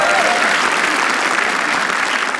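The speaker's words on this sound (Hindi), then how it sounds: "ब्रोकोड के लिए तालियां।" A roast-show audience bursts into loud, dense applause, a continuous roar of close clapping from a packed comedy crowd that holds steady without letting up.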